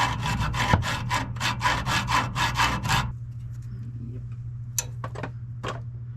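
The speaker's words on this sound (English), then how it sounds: "I'm going to take my metal saw here, and I'm going to saw away at the old fuel line" A hand metal saw cuts through an old fuel line on a second-generation Toyota 4Runner, with about three seconds of quick, regular rasping back-and-forth strokes, then a few sharp clicks.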